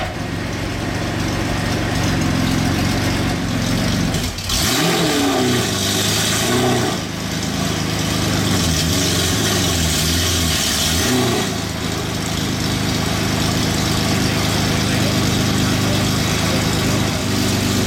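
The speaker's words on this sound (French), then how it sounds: "déjà le démarrage il a fait un retour d'échappement et ensuite là quand il a un peu appuyé" A Pagani Zonda engine runs loud and close for the whole stretch, idling roughly with two swelling revs in the middle before settling back to a steady idle.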